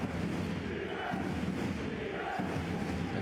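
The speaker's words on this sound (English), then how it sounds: "Now this home crowd just started to get in a bit more." A home crowd at a Basketball Champions League game roars in a continuous dense wash of cheering, moderately loud and steady.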